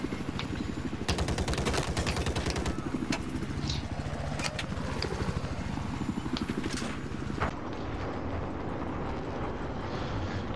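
Helicopter rotor thump in Battlefield 4, a dense rapid beating throughout, broken by sharp bursts of gunfire in the first half before the chopper noise carries on alone.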